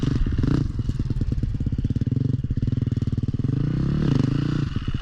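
A motorcycle runs close by with a rhythmic, chugging engine note that holds steady, then swells briefly as the throttle opens during a riding clinic, with no one speaking.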